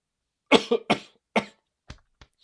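A person coughs several times in quick bursts, close and fairly loud, followed by a couple of softer throat sounds.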